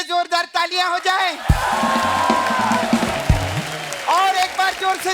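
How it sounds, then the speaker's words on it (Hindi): Studio audience at a Hindi comedy talk show clapping and cheering for guests, a sustained broad wash of applause with whoops through the middle, framed by talk before and after. "हमारे गेस्ट के लिए जोरदार तालियां हो जाए"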